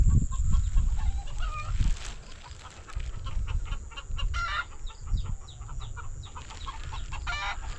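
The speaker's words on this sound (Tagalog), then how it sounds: "Nagkakaingay ang ating manok." Chickens cluck and squawk repeatedly nearby, with a rooster-like call in the mix over a steady background hiss of outdoor ambience.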